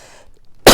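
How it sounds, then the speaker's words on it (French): A single sharp, loud cough bursts out close to the mic after a short, quiet pause. "Mais cette toux me lâchera pas"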